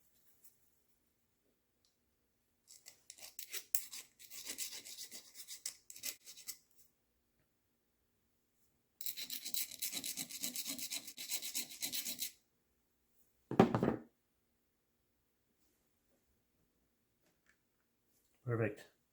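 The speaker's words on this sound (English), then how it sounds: "I'm gonna have to file it down." Hand filing a metal bolt on an ATV, two long runs of rapid rasping strokes close by, then a short scrape and a later brief knock, separated by silence.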